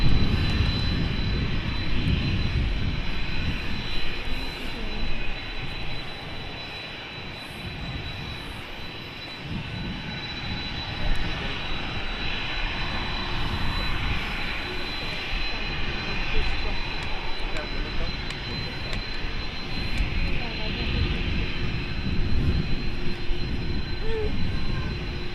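Loganair Embraer jet on short final at Manchester Airport, a broad continuous engine roar with a thin high whine, heard from a moderate distance and holding steady throughout.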